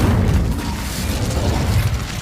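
Casting the Incendio fire spell in Hogwarts Legacy brings a loud, continuous roaring blast of flame with crackling texture, steady and close for its full short length.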